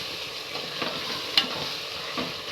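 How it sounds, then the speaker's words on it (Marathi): Marinated paneer is stirred around a pan of sizzling, slightly excessive oil, giving a continuous close fry hiss with soft scraping strokes and one sharper clack. "मॅरिनेट केलेले पनीर टाकूया। आपण आता ह्याला मिक्स मिक्स मिक्स मिक्स करूया"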